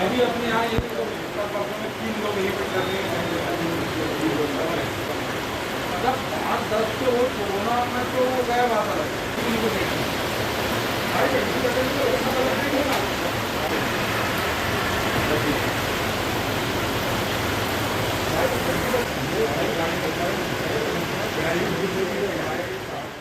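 Heavy rain falls in Chhindwara as a dense, continuous hiss and patter that stays steady and loud throughout, with no pauses.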